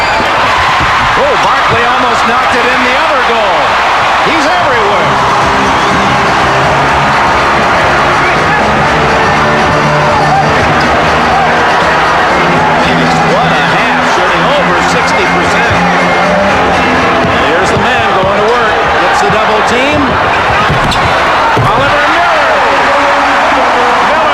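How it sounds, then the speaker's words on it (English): Crowd roar in a basketball arena during a 1993 NBA playoff Western Conference Finals game, a dense steady cheer filling the space under continuous commentary and sneaker squeaks. "They got this crowd pumped up and ready."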